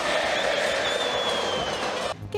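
Over 5,000 Internacional supporters cheer at Beira-Rio stadium in welcome for a new signing, a dense, steady crowd roar with whistles on top that cuts off abruptly near the end.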